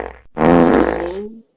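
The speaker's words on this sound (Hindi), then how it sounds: "कौन मनैया भैया ई बिना खान पर पादत बाय।" A loud, drawn-out fart, about a second long, in a rustic Holi comedy skit, sounding close and on its own with a rasping, buzzing tone.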